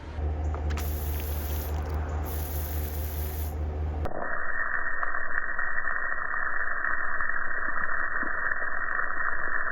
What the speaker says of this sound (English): we are going to hit our windshield washer